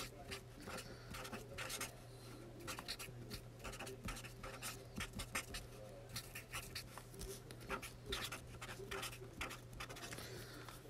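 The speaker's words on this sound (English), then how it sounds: "Let me actually write down a reminder." A reminder being written by hand, a steady, faint scratch of pen on paper in continuous short strokes for about ten seconds, close and alone over a low background hum.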